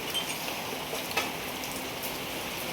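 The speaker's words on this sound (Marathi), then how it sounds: "लय पाऊस झाला हो." Heavy monsoon rain falls with big drops on a tin-roofed cattle shed, a steady, even hiss of rainfall continuing throughout at moderate distance with occasional sharper drips.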